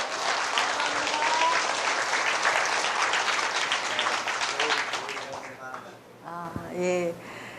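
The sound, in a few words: applause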